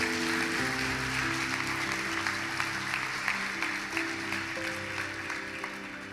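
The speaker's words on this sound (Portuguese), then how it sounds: "Será que você pode dar um aplauso bem forte a Jesus Cristo?" A church youth congregation applauds, with dense, steady clapping held under sustained keyboard or music tones, fairly loud and continuous throughout.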